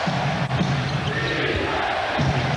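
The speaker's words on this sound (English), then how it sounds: "Chant of defense from this capacity crowd here in New Jersey" Capacity crowd in a New Jersey arena during an NBA Finals game, a rhythmic low-pitched chant of the defense call rising and falling in steady beats beneath a faint sneaker squeak.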